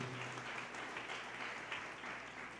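A church congregation claps during a Filipino preaching service. The applause is a faint, continuous wash that sounds distant and muffled.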